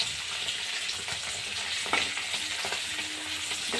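Fish pieces fry in a hot pan until reddish, giving a steady, close hiss of oil with a few faint clicks and scrapes and no voices.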